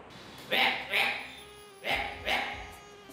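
A voice imitates a frog with four short croaking calls, grouped in two pairs separated by a brief pause.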